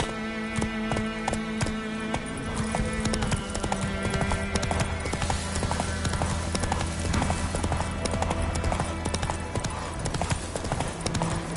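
A horse gallops in The Witcher 3 with rapid, continuous hoofbeats that stay up close throughout, layered with game music and other in-game sound.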